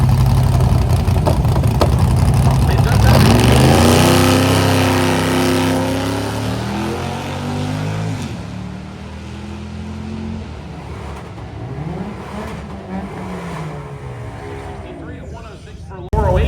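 A 1969 Ford Mustang fastback Boss 302 tribute car, a turbocharged Ford V8 with a 98mm single turbo, runs loud and close at a drag strip, its pitch rising and falling through revs while someone talks over it.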